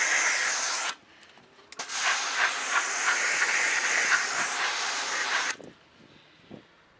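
A pressure washer rinses cleaner and dirt off the paint of a filthy minivan, a loud sustained spray hiss that cuts out briefly, resumes for several seconds, then stops, leaving quiet handling noises.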